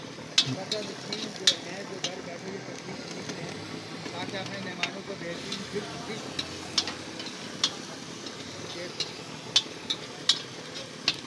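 Tomatoes fry in a pot of fish curry with a continuous sizzle, while a ladle scrapes and taps the metal in repeated sharp clinks, close up and steady.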